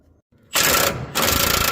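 Lower control arm bolts being loosened on an OBS GMT-400 truck during a coil spring install: after a faint lead-in, a loud, harsh mechanical whirring-rattling burst runs close up, briefly dips, then resumes at full strength.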